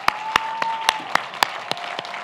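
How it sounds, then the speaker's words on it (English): A commencement speaker clapping directly in front of the microphone, about nine sharp, close, evenly spaced claps with a steady tone running underneath. "I guess maybe I shouldn't clap in front of the mic."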